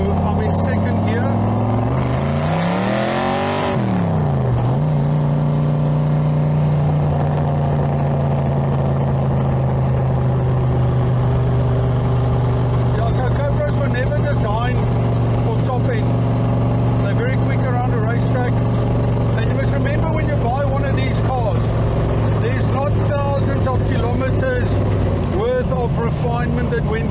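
A race car engine pulls hard in second gear, a loud sustained drone that climbs in a quick rev sweep, then settles into a steady high note for several seconds before dropping away, with someone talking over it.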